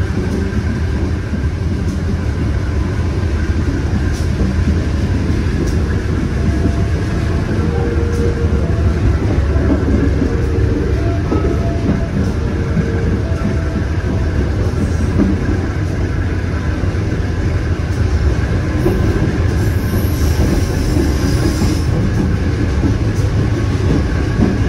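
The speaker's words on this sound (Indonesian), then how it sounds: "Serilo dengan nomor KAS9 telah diberangkatkan dari jalur 2 stasiun Tebing Tinggi, Kabupaten Empat Lawang." Bukit Serelo KA S9 passenger train, hauled by a locomotive, running steadily on rails after departing Tebing Tinggi station in Empat Lawang, a continuous loud low rumble with faint rhythmic rail noise throughout.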